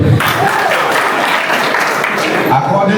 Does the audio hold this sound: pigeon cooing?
no